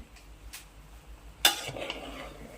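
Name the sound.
stirring egg uggani in a pan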